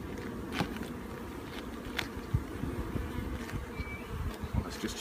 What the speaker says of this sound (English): a very healthy looking hive of bees here